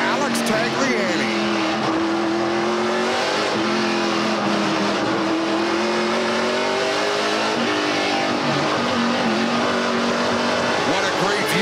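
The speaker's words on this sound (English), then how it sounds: "as we ride on board with Alex Tagliani" Onboard a NASCAR Pinty's Series stock car racing the Toronto street circuit at the 2019 Grand Prix of Toronto, the engine roars loud and continuous, rising and falling through gear changes and corners, with commentators talking over it.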